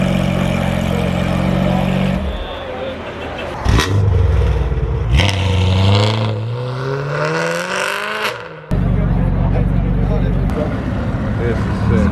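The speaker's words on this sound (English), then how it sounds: "Aventador SVJ sounding really good downshift and pulling in." Lamborghini Aventador SVJ exhaust downshifting and pulling in, its revs dropping in loud sweeping steps amid road and engine noise, with people talking over it.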